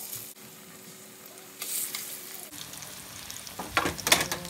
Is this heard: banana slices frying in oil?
yes